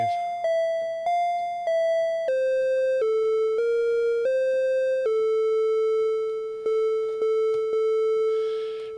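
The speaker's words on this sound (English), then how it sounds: "the primary sound is a triangle wave" A smooth modular-synthesizer triangle wave steps through a sequence of sustained pitches, each note starting crisply and decaying slightly, clean and electronic.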